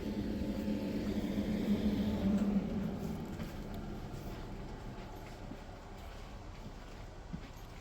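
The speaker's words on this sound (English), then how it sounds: "Here comes our train today. It's going to be worked by 333-006." Class 333 unit 333-006 pulls into Bradford Forster Square station, a loud low rumble of wheels and motors building early then easing to a steady, quieter roll as it slows.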